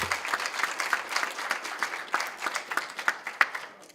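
An audience at a health workforce centre launch applauds a speaker, steady clapping from a room of people with distinct claps popping through, continuing for several seconds before thinning out at the end.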